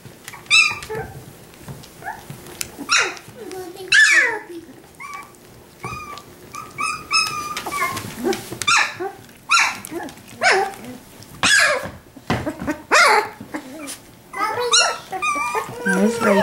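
Four-week-old Australian Labradoodle puppies bark and whimper in short, close bursts scattered throughout, with people talking around them.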